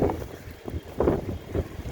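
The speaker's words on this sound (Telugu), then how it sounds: "ఇది గాలి ఒకటి ఫుల్గా వేసేస్తుంది" Strong wind gusts through a home garden of fenugreek and tomato plants, heard as close, rumbling buffets against the microphone in three or four uneven surges with no speech.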